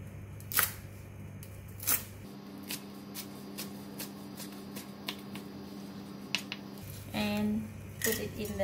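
Chinese parsley, tomato and chili cut into 1-inch lengths with a knife on a board for a Thai spicy noodle salad, giving sparse crisp chopping taps and clicks at close range, with a steady background hum.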